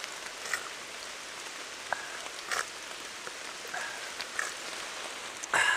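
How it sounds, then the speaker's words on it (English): Rain falling steadily on a moss-covered forest floor and punky wood in the Temagami wilderness, a constant soft patter broken by scattered louder drops close by. "When it's raining like this, all of the moss and all of the punky woods soak up all that fresh rainwater."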